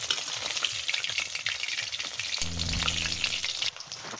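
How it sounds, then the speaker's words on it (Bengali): Steady, close sizzling and crackling of green chilli rolls frying in oil, with a brief low rattle near the end as the pan or rolls are shifted, then the frying noise drops slightly. "কতটা সুন্দরভাবে ভেজে নিচ্ছি। দেখো তেলের উপরে কতটা সুন্দর।"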